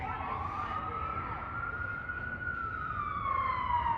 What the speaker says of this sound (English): We got an ambulance running through.